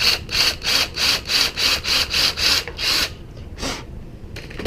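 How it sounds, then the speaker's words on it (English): Hand-working a hole in a wooden board on a trap gate, avoiding a crack: about nine rhythmic strokes with a rasping, scraping sound, close and steady, followed by a pause and a few scattered scrapes. "So I am going to drill that hole there."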